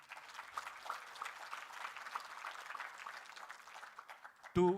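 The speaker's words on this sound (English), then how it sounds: "I would like to welcome all these startups and participants in student categories with a huge round of applause" An audience claps to welcome startup and student participants at a university event in Pune, a dense, steady patter of many hands heard from a distance at low level, ending with a brief louder thump.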